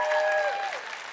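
A church congregation claps and cheers during a service, a dense burst of applause from a full room that holds steady for about a second before easing slightly.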